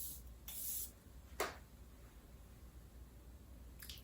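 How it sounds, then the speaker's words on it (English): Kayali Invite Only Amber 23 perfume sprayer misting fragrance: a short soft hiss followed by a sharper quick spritz, then a faint third puff near the end, quiet and close, with no talking. "look at the sprayer"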